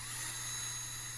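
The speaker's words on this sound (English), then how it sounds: "electric drill." A small electric drill whines steadily at high speed, close by and without a break, while it cleans the eyelet of a ground wire on a Chrysler Intrepid.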